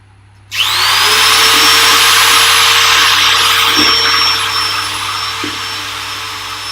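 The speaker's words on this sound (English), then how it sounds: "I think it's better using the other sander because I arrive a little bit closer to the center" A power sander starts up on a wood-turned box, a loud, high whine that holds steady and then eases slightly as it works the wood, with no talk.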